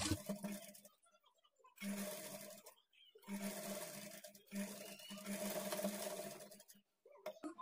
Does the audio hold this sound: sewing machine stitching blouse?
yes